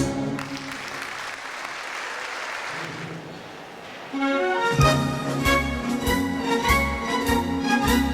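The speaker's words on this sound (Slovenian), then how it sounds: "Aplavz." Applause at a school graduation dance of a Slovenian school centre, a broad patter of clapping from a hall crowd, then music with a steady beat takes over partway through.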